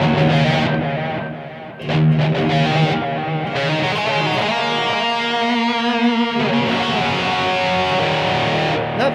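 Electric guitar played through a BOSS eBand JS-10 with no EQ applied, a continuous sustained distorted tone with held chords and melodic lines, loud and alone without talk.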